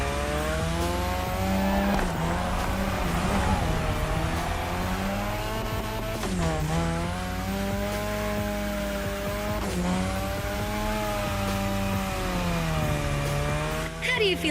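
A modified Mazda RX-7 in The Crew Motorfest drifts with a loud, sustained rotary engine note that rises and dips with throttle, broken by shifts and tire squeal, with no voices over it.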